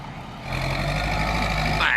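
An old tractor bulldozer engine runs with a steady low exhaust rumble, close and fairly loud, rising slightly in intensity, with a faint high whine near the end.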